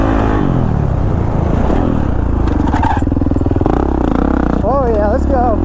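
A Kawasaki KX450 dirt bike engine while riding, a loud, steady, buzzing drone that rises and falls slightly in pitch throughout and dominates the whole clip.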